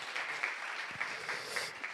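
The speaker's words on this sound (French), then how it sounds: "il y a un peu d'applaudissements" Brief applause from a theatre audience at an art and science conference on augmented gastronomy, a steady patter of clapping hands filling the room at moderate level.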